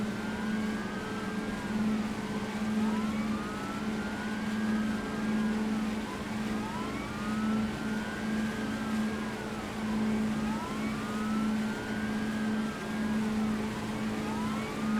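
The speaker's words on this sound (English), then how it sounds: "I need a clip of us just driving by with our sirens" Police vehicles rolling past during a training exercise with several sirens wailing at once, overlapping rising and falling tones over a steady engine drone, moderately distant and continuous.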